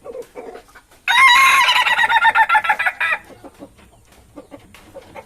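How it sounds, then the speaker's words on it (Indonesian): An ayam ketawa, an Indonesian laughing chicken of the dangdut type, lets out a loud rapid string of cackling, laugh-like notes that taper into softer clucks, heard up close with quiet surroundings. "di sini ada ayam ketawa tipe dangdut, mungkin boleh dilihat"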